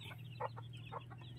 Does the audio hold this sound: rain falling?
no